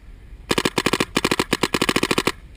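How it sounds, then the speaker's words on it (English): Paintball guns firing during a jungle paintball battle: loud, close, rapid bursts of sharp pops in quick rhythmic clusters after a short quiet start. "That guy that's shooting at me right now just got shot in the chest."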